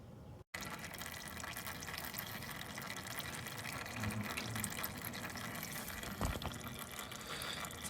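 Oil pours from the fork drain bolt of a 1983 Honda Magna V45 in a steady, quiet liquid trickle. The stream starts after a brief gap and runs on continuously without talk.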